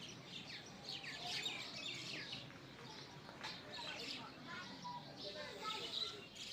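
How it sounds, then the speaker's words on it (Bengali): A flock of small birds feeding on scattered grain at a roadside junction, chirping and tweeting continuously in overlapping bursts against a constant outdoor background, moderately distant and fairly quiet. "দেখুন চলে এসেছে কত পাখি।"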